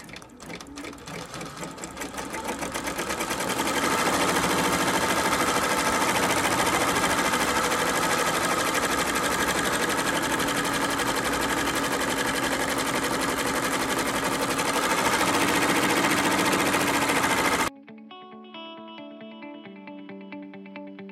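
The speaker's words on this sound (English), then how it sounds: "So it will start embroidering." An embroidery machine monogramming towels, running as a loud, steady, fast mechanical whir with rapid stitching that holds for about seventeen seconds before stopping abruptly, followed by a short musical tone.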